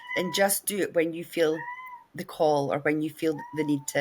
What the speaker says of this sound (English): I'm so sorry about the cat meowing.